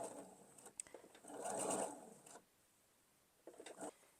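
A sewing machine backstitches a short stretch on a quilt block, its quiet whir rising to a brief steady run in the middle, with a few light clicks and handling sounds around it, faint and close.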